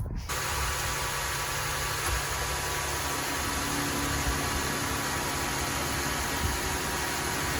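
A Jeep Grand Cherokee V6, fresh from new spark plugs, catches after a brief start and settles into a steady, even idle under a broad hiss of fan and intake noise, loud and close, with no talk.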